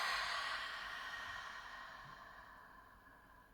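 A long, soft breath goes out through an open mouth, as if fogging a mirror, in Ujjayi pranayama breathing. It starts close and breathy, then fades slowly.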